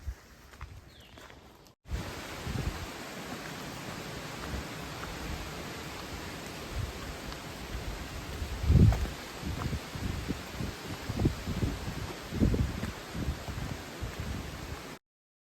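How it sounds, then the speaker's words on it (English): Steady rain and gusting wind on the summit trail at Springer Mountain, a dense continuous wash of noise with rustling and occasional low wind buffets against the microphone, lasting well over ten seconds with no talking. "It's raining and windy"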